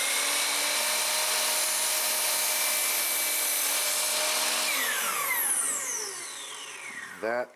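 A power saw cuts a wooden board in a woodworking shop, a loud steady whine that falls in pitch as the blade spins down, followed by a brief knock at the end.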